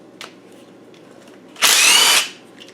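A power tool spins out a sump bolt on a Land Rover 300Tdi diesel engine (Argentine-built Maxion), giving one loud, close whirring burst of about half a second after a few faint clicks and taps.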